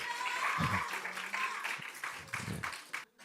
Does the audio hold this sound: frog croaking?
no